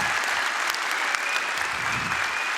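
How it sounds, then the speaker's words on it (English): A crowd at the CCP Fanfest 2014 presentation claps steadily, a dense wash of applause throughout. "So give the man another applause."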